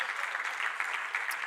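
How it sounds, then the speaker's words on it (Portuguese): A church congregation claps together in a continuous, fairly soft patter during a conference service in Portugal. "Dê um aplauso bem forte para o Senhor"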